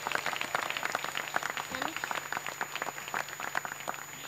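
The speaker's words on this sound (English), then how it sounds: "let's give him a round of applause as well" A crowd applauds at a Baltimore mayoral re-election announcement, a dense patter of many hands clapping at once, steady and moderately loud for several seconds.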